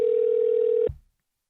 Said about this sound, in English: I'm going to pick up the phone here and give this person a call.